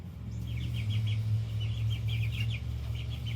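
A small chicken near goats on a farm clucks in quick soft bursts, a close run of short repeated calls over a steady low background hum.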